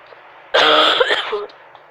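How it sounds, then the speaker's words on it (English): One close, brief cough with a throaty, rasping quality, alone against a quiet background. "my cough is acting up again"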